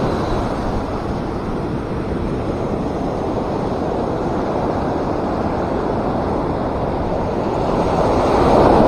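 Ocean waves surge constantly against a rocky shorecasting spot in Dingalan, making a loud, unbroken roar of rushing surf that swells louder near the end, with wind buffeting the microphone.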